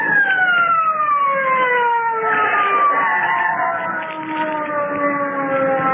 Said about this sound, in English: Listen. Police car.